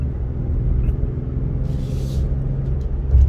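A 2023 Nissan Frontier crew cab pickup drives a hilly mountainside road, with a steady low engine and road rumble heard from inside the cab and no talk.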